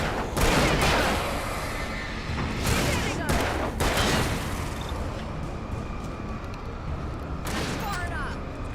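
Gunfire in the video game Alan Wake: dense, booming bursts of shots in a noisy fight, loud clusters early and mid-clip then thinning, with a voice talking throughout.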